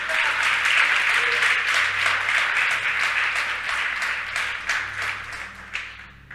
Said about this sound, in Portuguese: Quem pode aplaudir Jesus?